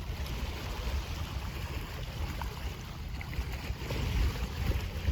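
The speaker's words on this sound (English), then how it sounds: "I love the sounds of the waves and I want you to be able to hear it as well." Lake water at Lewisville Lake laps steadily against the shore, a continuous wash of low rumbling water and wind with no voices.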